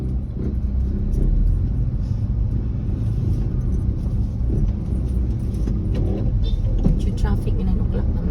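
Road traffic with cars passing at around nine in the morning, a steady rumbling engine wash with occasional louder vehicles, heard close and continuous.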